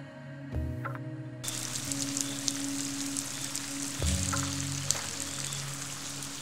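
Rain falling steadily outside a UAZ Patriot 4x4, a continuous patter and hiss with a low hum and a couple of soft thumps.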